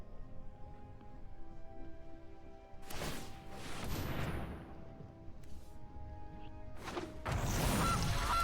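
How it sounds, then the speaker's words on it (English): Several goose honks sound as a card effect in the video game MTG Arena, sharp synthetic squawks with whooshing swells and a crash-like burst, fairly faint over a quiet game-music bed. "Oh no, they found a goose."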